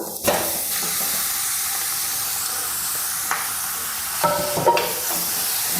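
Chicken pieces sizzling and frying in masala in a pan, a loud continuous hiss and crackle close up, with a few clattering bumps of stirring.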